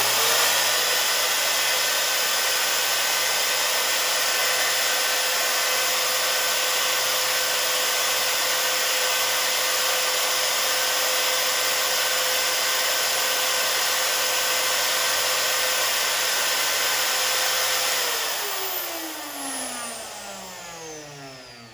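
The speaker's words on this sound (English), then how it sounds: "I like how this laminate trimmer, you can take the motor off of the base." A laminate trimmer's motor runs at a steady, loud, high whine with a constant tone while in use on a woodworking job, then winds down toward the end, its pitch falling as it coasts.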